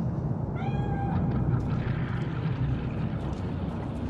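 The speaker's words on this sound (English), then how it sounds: "Chill, just a cat." In the video game Cyberpunk 2077, a cat lets out one short, clear meow over a constant low ambient drone.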